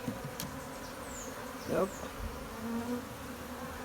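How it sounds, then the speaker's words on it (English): Africanized honey bees buzzing around a hive being removed, a faint steady swarm drone with a closer bee passing by in a brief louder buzz, and someone speaking one short word. "Still have a lot of bees in here,"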